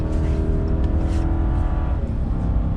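A gas 6.4-liter Hemi Ram pickup accelerating hard while towing a 10,000-pound load, its engine a loud, steady, continuous roar that holds strong throughout with no talking.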